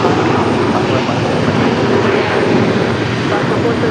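An airplane on the runway at Raleigh Durham International Airport rumbles loudly and steadily as its engines roar nearby, with a radio voice faintly under the noise.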